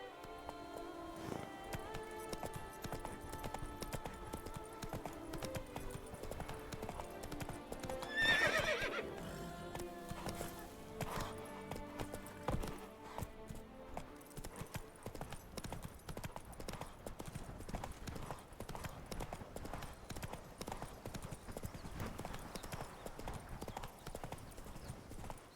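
Roach, a horse in The Witcher 3 video game, trots with steady rhythmic hoof clip-clops and gives a single whinny early on, under continuous game ambience.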